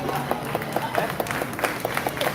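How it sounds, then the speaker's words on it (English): A small group at Disney's Animal Kingdom gives a few sparse, polite claps, scattered distinct hand claps spaced apart over a low background murmur of voices. "Polite claps."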